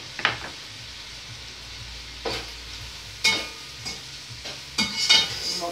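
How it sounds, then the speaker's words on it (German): Food is stirred in a pan to keep it from burning, with a handful of separate scraping strokes standing out over a low, quiet sizzle, close by, no voices. "Mal wieder umrühren, damit das nicht anbrennt."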